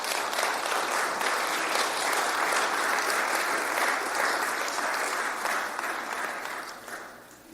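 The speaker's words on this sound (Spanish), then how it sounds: "Dale un aplauso al Señor." A church congregation breaks into loud, steady applause that fills the room for several seconds, then gradually thins and fades toward the end.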